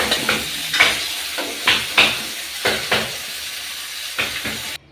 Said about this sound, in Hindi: चलिए बैगन हमारे फ्राई हो चुके, हमने 1 मिनट तक बैगन को फ्राई किया